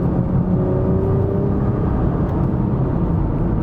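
2020 Nissan GT-R 50th Anniversary under way, a loud steady engine and road roar heard from inside the car, rising slightly in pitch as it pulls, with no speech over it.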